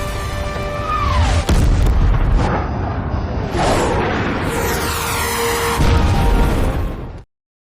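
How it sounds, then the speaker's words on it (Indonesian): Terrorist ammunition stores blow up in a war action film, with loud booming explosions and rumbling blasts in close succession under a continuous roar, ending in a sudden cut to silence. "Semua amunisi senjata teroris habis diledakkan tim Dragons."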